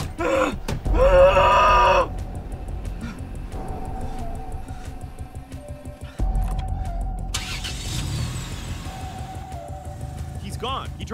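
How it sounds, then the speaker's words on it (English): A car starts up and drives off, its engine rising in a loud burst and then settling into a steady rumble before pulling away, with voices speaking alongside. "He drove away in his car."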